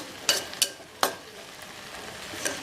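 Prawns frying on full flame hiss under a steady crackle, while a spoon stirring them scrapes sharply against the pan three or four times, close and with no voices.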